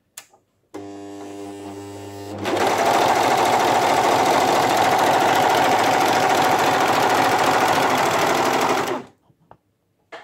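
A Pfaff 1450OL Element overlocker set for a rolled hem starts with a brief whirring hum, then runs at full speed in a loud, steady mechanical clatter for about six seconds before stopping.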